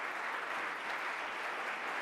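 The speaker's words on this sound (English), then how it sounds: "can we have a round of applause" A tribute event audience in St. Louis applauds in a steady, dense wash of clapping that holds at an even level throughout, with no voices over it.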